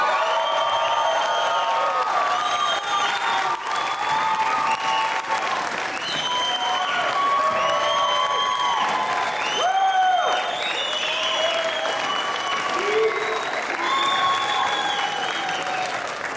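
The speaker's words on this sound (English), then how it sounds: "Let's give him a warm applause." Concert crowd applauding and cheering to welcome a country singer onto the stage; dense, sustained clapping with whoops and shouts that carries on throughout.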